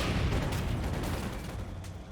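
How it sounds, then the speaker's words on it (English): Mortar and artillery fire in the wartime strategy game Company of Heroes 2, a dense continuous rumble of distant booms and crackling gunfire that stays loud throughout without pause. "taking some damage from the mortar"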